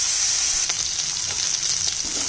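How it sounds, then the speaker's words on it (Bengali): Shrimp coated with salt and turmeric fry in hot oil in a wok, giving a steady, loud, close sizzle with a few light stirring scrapes and no voices. "চিংড়ি মাছটা ভেজে নিব, নুন হলুদ দেওয়া আছে"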